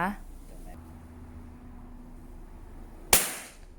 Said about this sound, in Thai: ยิงนัดที่สองนะคะ